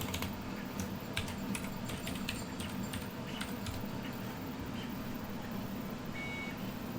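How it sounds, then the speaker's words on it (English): Keys tapping on a computer keyboard while router login details for a TP-Link router are entered, a quick irregular clatter of keystrokes over a steady low hum and background noise, with no talking. "Okay, so I'm gonna go ahead and type my router information in."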